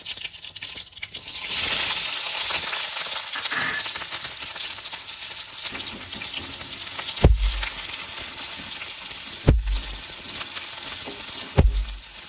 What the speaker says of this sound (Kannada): ಈರುಳ್ಳಿ ಚೆನ್ನಾಗಿ ಫ್ರೈ ಆಗಿ